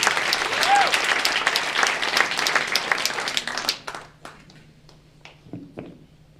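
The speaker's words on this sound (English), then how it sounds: "please keep that applause going for Evan Marz" A comedy club crowd at Helium applauds comedian Evan Marz. Dense clapping and cheering thin out after a few seconds into scattered claps, with voices in the room near the end.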